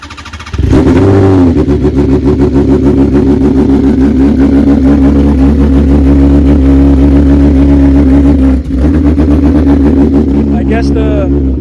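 A superbike engine, either a BMW S1000RR or a Ducati Panigale V4R and running rich on leftover E85 fuel, cranks and catches, then holds a loud, close, throbbing rev with a brief dip near the end.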